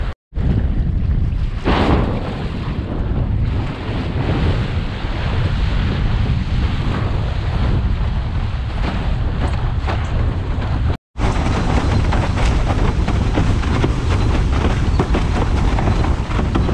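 A strong 30-knot west wind blows at a windsurfing slalom spot, roaring across the microphone as a loud, steady rush mixed with crashing surf, with one brief dropout and no talking.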